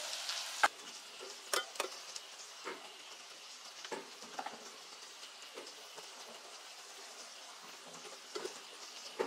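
Potatoes frying with spices, ginger, cumin and turmeric in a pan, a soft steady sizzle with scattered stirring clicks and scrapes, fairly quiet and close.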